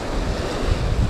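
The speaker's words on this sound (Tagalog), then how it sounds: "Laki ng alon." Big waves and strong wind at sea during the amihan monsoon, heard from a small fishing boat as a rough, rumbling wash with gusty wind buffeting the microphone.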